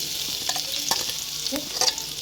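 Garlic hits hot oil with mustard seeds in a pan for tempering, giving a close, continuous sizzle with scattered pops and crackles and occasional stirring clinks, no voices.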